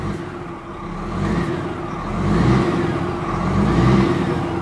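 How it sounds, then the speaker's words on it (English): A Scania R500 R-series truck engine revs up a couple of times, its steady rumble swelling and easing in loud, close waves with no talking over it. "I'll start up the R series here, and we'll let you hear what the engine sounds like"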